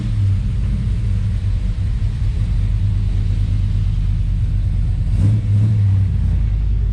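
A pickup truck's 377 stroker V8 rumbles at idle, low and heavy, with a short rev near the end as it begins to back out.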